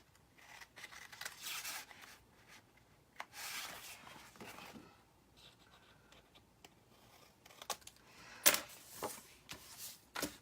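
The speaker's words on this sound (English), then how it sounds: "I am going to go ahead and trim off the edges" Scissors trim the edges of paper for a scrapbook layout, with soft snips and rustling paper handling, close and quiet, no talk.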